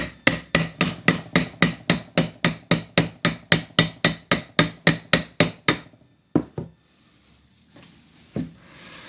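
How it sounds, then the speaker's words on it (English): Steady hammer strikes drive a wear sleeve onto the harmonic balancer of a 7.3 Powerstroke, about twenty sharp metallic blows in an even rhythm, close and loud, followed by a few scattered knocks and handling sounds. "so when you start with the big hammer or mallet or whatever"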